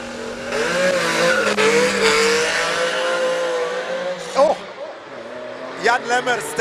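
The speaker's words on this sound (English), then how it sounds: "I think we need to talk about the E36 that's burning rubber like that." A BMW E36 burns rubber at a classic car speed event, its engine revving loudly with tyre squeal, then easing off to a few short sharp bursts near the end.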